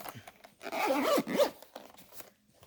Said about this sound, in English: And you zip it up.